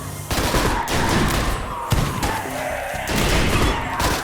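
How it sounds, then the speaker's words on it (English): Charged shotgun firing in the video game Rimworld, a loud, dense burst of heavy blasts with three or four sharp onsets, rolling continuously like a fusillade with no talk. "I like that sound effect with that charged shotgun."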